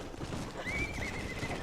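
A horse whinnies in the Western video game Red Dead Redemption, a single rising, drawn-out neigh heard clearly over a steady bed of game ambience, with no talking.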